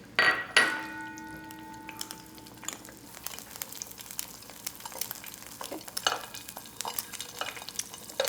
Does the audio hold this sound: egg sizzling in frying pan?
yes